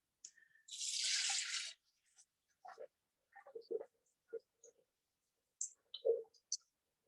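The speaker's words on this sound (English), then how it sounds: "And 500 grams of water to the bowl." Hot water from a recently boiled kettle pours into a bowl in one short, bright splashing stream, followed by scattered faint clinks and small drips in an otherwise quiet kitchen.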